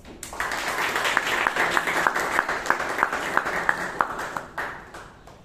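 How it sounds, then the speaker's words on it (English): A modest group applauds at a Toastmasters club meeting in Bangalore. Moderate clapping swells after a quiet start, with a few sharp, distinct claps cutting through, then fades away near the end. "Let's give a huge round of applause."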